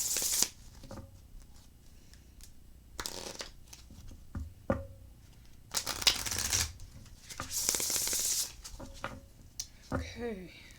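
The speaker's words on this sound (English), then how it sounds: "Two more shuffles and I'll get right to your reading." Tarot cards being shuffled by hand in bursts of crisp riffling and soft slaps, with pauses and a few taps between, close and moderately loud.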